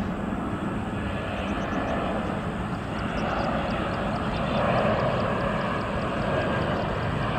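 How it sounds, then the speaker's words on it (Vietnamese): An Aero Mongolia Airbus A319 airliner arriving at Noi Bai airport sends out a steady, loud jet engine roar that holds throughout, swelling slightly midway, with a faint high whine on top and no voices. "đây là lần đầu tiên mình quay được chiếc Airbus A319 sơn màu trắng của hãng này đến sân bay Nội Bài"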